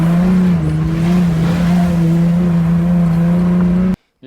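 A Porsche 911 rally car on 16-inch wheels drives loudly over curbs, its engine holding a steady droning note close by before cutting off abruptly.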